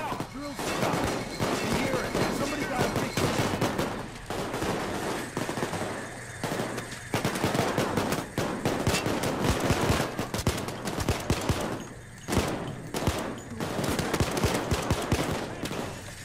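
Rapid pistol gunfire in the video game Payday 2, with dense bursts of shots crackling almost without pause through a busy, chaotic mix, while voices talk over it.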